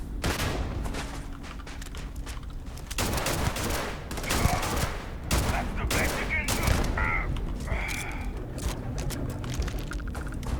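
Gunfire from a gun in Starfield, bursts of rapid shots and sharp impacts across a firefight, with scattered speech in between.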